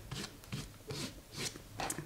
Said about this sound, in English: So now I'm just going to kind of rub it and stamp it.